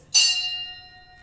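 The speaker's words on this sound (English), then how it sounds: "The bell invites me." A single bell rung as a stage effect in a theatre production of Macbeth: one clear, bright strike that rings on and slowly fades in an otherwise quiet room.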